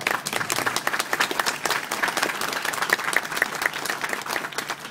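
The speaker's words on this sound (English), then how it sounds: "No applause required." An audience at a book talk in Toronto breaks into dense, sustained applause, many hands clapping at once in a steady wash with no voices over it.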